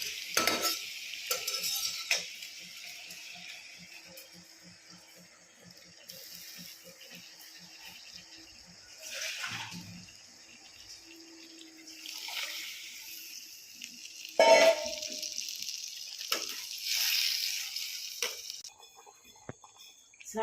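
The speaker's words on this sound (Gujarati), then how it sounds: "હવે આપણે તેમાં ધોયેલો મોરૈયો નાખીશું" Washed moraiyo is stirred in a pan with tomatoes and spices, spoon scrapes and soft sizzling coming in bursts between quieter stretches, with occasional clinks of utensils.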